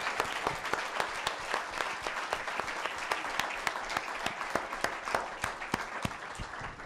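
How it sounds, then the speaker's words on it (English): Audience at a Wild & Scenic Film Festival panel applauds loudly and continuously, with sharp individual claps cutting through the steady roar throughout the whole stretch. "Big round of applause for the panel."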